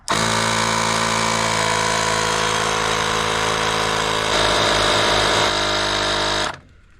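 A Viking lead-acid multi-function jump starter's built-in air compressor pumps up a tyre with a loud, steady buzzing rattle that runs unbroken for several seconds, then cuts off abruptly near the end.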